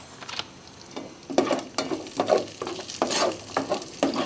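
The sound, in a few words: sautéing pork adobo with tausi in a pan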